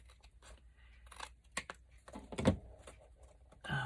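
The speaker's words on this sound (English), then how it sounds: "I'm just going to trim this with the scissors." Scissors trimming paper for a journal tag, close and quiet, with a series of short crisp snips and small paper rustles, one louder cut near the middle, no talk.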